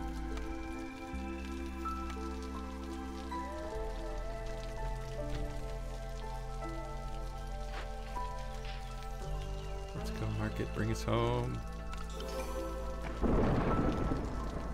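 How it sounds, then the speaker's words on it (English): Rain and thunderstorm in the city-building game Against the Storm: a continuous wash of rain with low rumbling beneath and a harsher rain-or-thunder burst near the end, under layered game music and a few spoken words. "I don't want to go through that storm"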